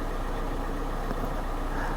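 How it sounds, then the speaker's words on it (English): A Kia car engine idling steadily at about 900 RPM during recall testing, a close, constant low rumble with no speech. "Maintain engine RPM between 750 and 1000."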